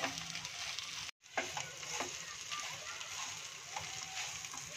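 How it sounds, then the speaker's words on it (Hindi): Potatoes frying in a pan over high flame and pressed with a spatula, a constant close sizzle with occasional scraping taps and a momentary cut in the sound. "4 से 5 मिनट तक आलू को फ्राई करना है।"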